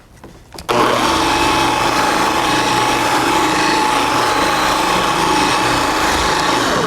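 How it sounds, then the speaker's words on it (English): Dual action polisher buffing car paint with Wolfgang Car Care products, switching on after a brief quiet start and then running as a loud, steady, continuous high-pitched whine and hum for several seconds, alone without talk. "Notice how I move the polisher fairly quickly, but that's only to spread the product out."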